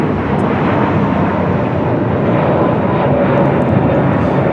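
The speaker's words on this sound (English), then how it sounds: "This is United Airlines 2487 taking off to Chicago on the A321neo." United Airlines A321neo jet taking off from LAX, a loud, steady, broadband engine roar that holds strong and even throughout with no voices.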